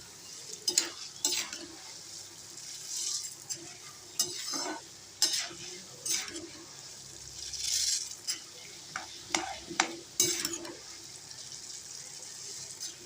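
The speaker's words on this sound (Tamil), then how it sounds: "இந்த கடலைப்பருப்பும் உளுந்தம்பருப்பும் நல்லா பொரிஞ்சு வரணும்." Chana dal and urad dal fry in hot oil for idli podi, a soft sizzle broken by repeated bursts of stirring and scraping in the pan, close and fairly loud.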